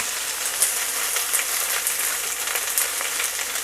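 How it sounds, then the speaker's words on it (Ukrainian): Oyster mushrooms, cherry tomatoes and fresh spinach seasoned with salt and pepper sizzle over high heat in a pan, a steady close crackling with small pops and occasional stirring clinks. "Перемішую, щоб продукти рівномірно просмажились."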